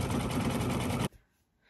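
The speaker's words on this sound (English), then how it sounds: "how I have used my embroidery machine to quilt this" An embroidery machine quilts a shoofly wall hanging, its needle hammering in a rapid, even, close-up rattle that stops abruptly after about a second.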